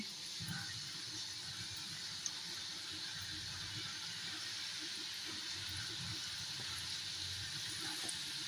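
Kodubale, crisp rice flour ring snacks, frying in hot oil at home, giving a steady faint hiss and fizz of bubbling oil throughout, with no talk over it.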